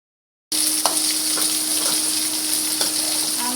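Brinjals deep-frying in hot oil for a stuffed eggplant curry give a steady, close, bright sizzle with occasional pops and stirring clinks.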